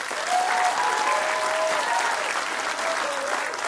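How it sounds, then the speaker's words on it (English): An audience filling a building applauds the team behind a community event: a full, even roar of many hands clapping, loud and sustained throughout, with a few faint voices rising through it. "please give these people a round of applause."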